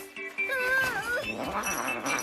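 A cat lets out a loud, drawn-out caterwaul, its wailing pitch rising and bending, close and continuous for a couple of seconds.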